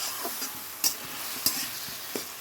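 Chicken stirred in a pan with ginger paste, garlic paste, cumin and chilli powder: a soft sizzle under a few sharp spatula scrapes and knocks against the pan, with no voices.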